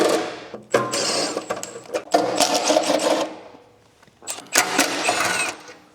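Ratcheting and metallic working noise from a 7/16 socket wrench loosening bolts on a Yard Machines rototiller, in two loud bursts of rapid clicking and scraping separated by a quieter gap, close to the microphone.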